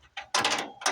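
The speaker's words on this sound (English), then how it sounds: "Gotta use a wrench" Ratcheting wrench working stubborn bolts loose from a bent bracket on a 1990 Dodge truck, giving a few close, quick metallic clicking bursts with brief pauses between them.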